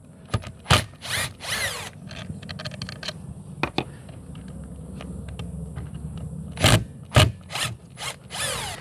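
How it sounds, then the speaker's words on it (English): Screws are backed out of a brush cutter housing with a power driver, giving several short sharp whirring bursts and clicks, with quieter handling noise between them. "Now I'll just take off these two screws."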